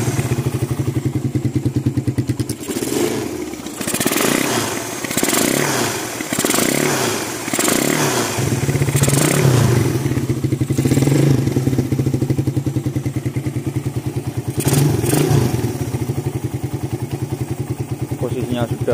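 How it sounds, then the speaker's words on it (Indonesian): A motorcycle engine runs at a steady idle with even, smooth rhythm, occasional rattles and clunks on top, close by and fairly loud. "Bunyi mesin sudah halus."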